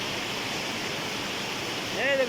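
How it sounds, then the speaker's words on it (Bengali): Heavy rain pours on an island in a dense, continuous roar, steady throughout, with a faint higher sound rising briefly near the end. "ঝমঝম ঝমঝম করে বৃষ্টি হচ্ছে বন্ধুরা, দেখতে পাচ্ছ।"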